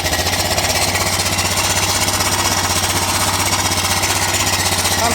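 A 2008 Honda Recon ATV engine, abandoned for over 15 years, running loud and steady with a fast, rough, rattling idle throughout.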